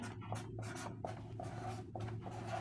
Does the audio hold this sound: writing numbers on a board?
yes